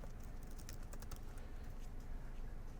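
Typing on a computer keyboard, with dense, rapid key clicks running steadily throughout at a fairly even level and no voices.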